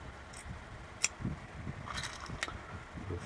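Small metal pins being dropped into a euro lock cylinder, faint scattered clicks and light metallic taps at irregular intervals, with some handling noise in the background.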